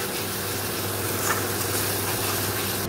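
Water poured into spice paste frying in oil in a pan for a Bengali fish curry, giving a steady broad sizzle and hiss, moderately loud and continuous, with no talking.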